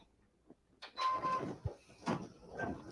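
A home embroidery machine stitches an applique tack-down line in the hoop, giving faint, intermittent whirring and mechanical clatter in short bursts, with quiet gaps between the runs of needle movement.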